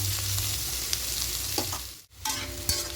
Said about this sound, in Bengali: আর একটু ভাজতে হবে আর একটু ভেজে দেবো